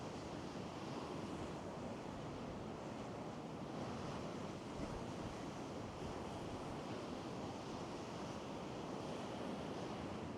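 Sea waves surge steadily around a pier at Gorleston-on-Sea, a continuous broad wash of surf with wind buffeting the microphone, loud and unbroken with no voices.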